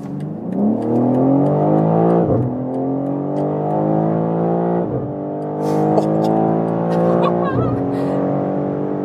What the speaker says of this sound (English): And now we're starting from 50 kilometers an hour. Let's see what we can score for the acceleration.